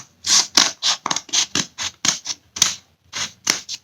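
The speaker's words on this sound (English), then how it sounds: "So cut it straight across there." Scissors cut straight across a sheet of wrapping paper in a quick series of about a dozen crisp, loud snips and rustles, heard close and alone.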